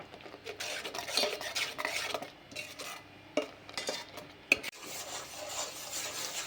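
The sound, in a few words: stirring jaggery into lemon chutney in a pan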